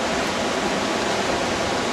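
Fast-flowing river water rushes at Cache Creek, loud and close. It makes a dense, unbroken roar with no pauses or voices.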